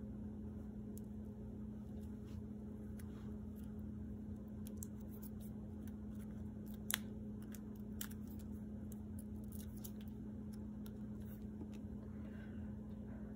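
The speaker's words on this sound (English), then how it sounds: "I'll just cut one of these tiny dimensionals in half" Small scissors snip through a tiny foam dimensional adhesive during a watercolor craft project, a series of faint crisp clicks and snips over a constant low hum.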